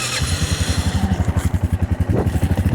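A four-wheeler ATV engine cold-starting with the choke on, chugging in a steady, rapid loud idle with rough pulsing throughout and a brief rise in pitch near the end.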